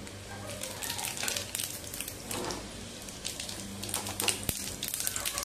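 Cumin seeds sizzle and crackle steadily in a ladleful of hot oil in a tempering pan, a close, continuous frying hiss with scattered pops and occasional clatter.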